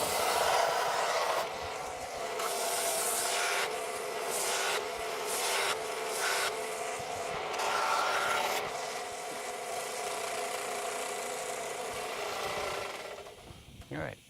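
Wood is sanded to shape a curved radius across the top of a guitar neck, making a steady, close, abrasive rubbing hiss with rhythmic strokes and slight surges throughout.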